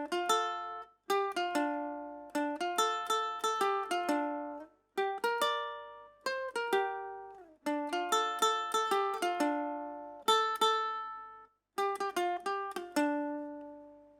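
A ukulele plucks the Spiderman theme as a bright, bouncy melody in short repeated phrases separated by brief pauses, played solo and close.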